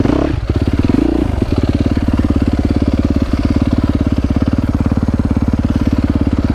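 A motorcycle engine idles nearby with a steady, rapid putter, loud and even throughout after a brief stumble at the start.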